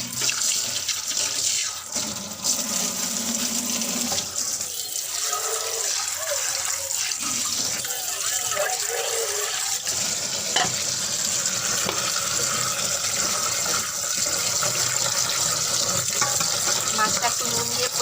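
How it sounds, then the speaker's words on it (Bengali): Small fish being washed clean by hand under a running kitchen tap, water splashing and rushing steadily and close, with light handling sounds throughout. "এবার একটু ধুয়ে পরিষ্কার করে নেবো এবারে এখানে ধুয়ে নেবো ভালো করে"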